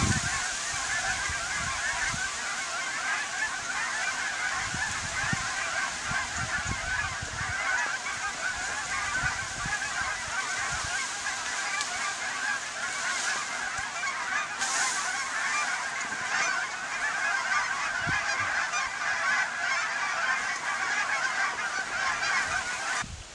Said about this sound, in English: There was a big flock of cacklers coming really low behind me.